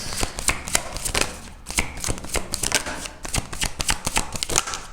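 Tarot cards being shuffled and drawn from a deck: rapid, dense papery riffling and flicking in bursts, close and fairly loud, with brief pauses between runs and no talking.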